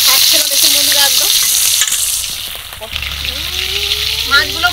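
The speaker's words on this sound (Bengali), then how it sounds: "অপর পিঠটাও এইভাবে লাল করেই ভেজে নেব।" Pangas fish frying in oil in a pan, a steady loud sizzle with stirring scrapes, while a person talks intermittently over the cooking.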